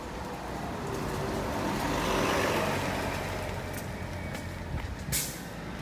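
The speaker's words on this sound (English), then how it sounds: "here's a bus coming up going to Disney Springs." A shuttle bus heading to Disney Springs rolls up at Disney's Saratoga Springs resort with a broad rising engine and road rumble, then short hissing air-brake bursts near the end, outdoors and fairly close.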